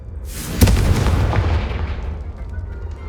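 A Confringo fire spell in Hogwarts Legacy bursts with one sharp, loud boom followed by a rolling, fading crackle and rumble lasting a couple of seconds.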